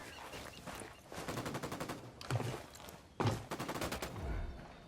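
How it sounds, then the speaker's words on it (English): Rapid bursts of automatic gunfire rattle through a firefight in Ghost Recon Wildlands, several sharp volleys and fusillades stacking over about five seconds with no talk. "Opening fire on these fuckers."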